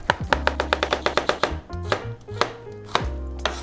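A knife chops an onion on a cutting board, with a quick run of about a dozen sharp, evenly spaced taps followed by slower, scattered cuts, close and clear with no talking.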